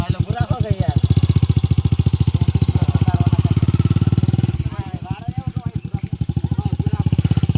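A motorcycle engine running close by, a loud steady pulsing putter with a brief dip midway before the throb resumes, people talking over it.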